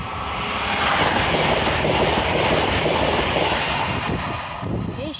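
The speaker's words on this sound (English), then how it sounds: "Here she comes then, the final train of today. It's a whole train's class 802 Paragon" A Class 802 Paragon train passes at Gamston bank, a loud, steady roar of engines and wheels on rails that swells within the first second and holds throughout, with a faint squeal near the end.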